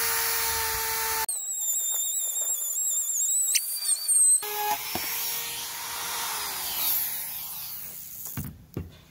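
Router cutting material on the roof of a 2014 Minnie Winnie RV, with a shrill high whine that rises and shifts in pitch, broken by pauses and bursts, fairly close and moderately loud.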